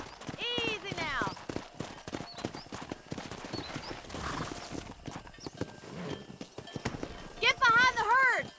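Horse hooves clip-clop in the Red Dead Redemption video game, a steady rhythmic trot under frequent game dialogue, with a horse whinnying near the end.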